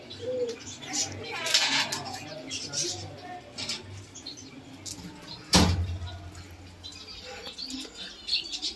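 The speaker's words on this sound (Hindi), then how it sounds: "वहां पर बैठा हुआ है सिराजी कबूतर का बच्चा, जो कि हमारे देसी कबूतरों ने निकाला है, जीनू और उसकी फीमेल ने।" Pigeons coo softly in a loft, with low murmuring calls, light chirps and a sudden close thump and rustle midway, as someone speaks quietly over them.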